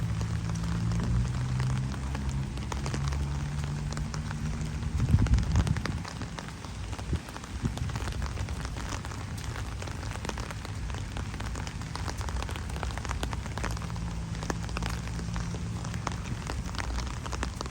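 Heavy rain falling in an emptied outdoor flower garden, a continuous broadband wash of drops on surfaces with a low rumble early on, steady throughout with no talking.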